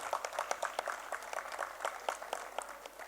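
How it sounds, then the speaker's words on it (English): Audience at an evening school annual function applauding the honorable director, a steady patter of many hands clapping at moderate distance, even and sustained throughout. "Please ma'am, give a huge round of applause."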